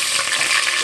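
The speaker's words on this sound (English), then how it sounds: "now that our grease is hot, right, first thing you're going to do is you're going to put in all your spices" Salt, pepper and other spices frying in hot grease in a pan for veggie chili, a dense, steady close-up sizzle that runs without pause for just under a second.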